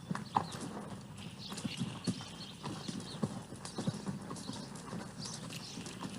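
Several horses walk in a group on a ranch trail ride, their hooves clip-clopping in a steady, overlapping rhythm at moderate distance, with faint bird calls in the background.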